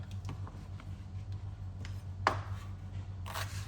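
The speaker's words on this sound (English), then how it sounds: "top and tail the celery" A kitchen knife chops the ends off celery on a board, with a few light taps, one sharp louder cut midway, and a rustle near the end over a low background hum.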